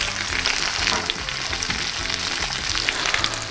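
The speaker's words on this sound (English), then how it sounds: "let's check on our prawns" Prawns fry in a pan for a prawn risotto, giving a loud, close, continuous sizzle with faint crackles and no talking.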